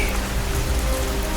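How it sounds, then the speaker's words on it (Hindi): Dense, close rain pours without pause in a dark jungle, a constant loud hiss of drops falling on a figure lying on the ground. "बारिश उसके चेहरे पर गिर रही है"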